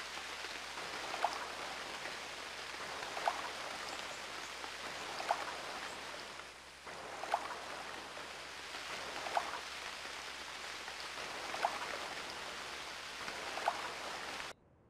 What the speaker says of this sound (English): Give my ears a little bit of a break from the horrible sound that it makes when it rains